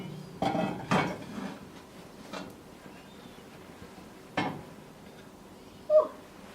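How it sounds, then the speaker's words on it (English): A cooking pot is shifted and turned while a cake inside is checked: a few scattered metallic clanks and scrapes, moderately close, with quiet gaps between them. "I'm going to go in there and I'm going to rotate the pot and check on"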